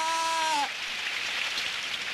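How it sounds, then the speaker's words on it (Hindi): Rain falls over a park as a steady, faint hiss of drops, following a brief bleating sound at the very start. "अरे ये बारिश।"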